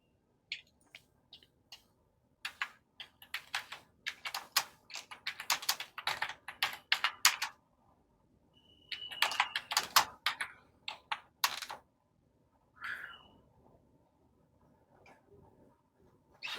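Computer keyboard typing in irregular bursts of sharp, close clicks, with short pauses between runs of keystrokes, in a quiet room.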